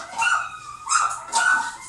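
Dogs inside a house whimper and cry in high, wavering whines, three close, fairly loud bursts in quick succession.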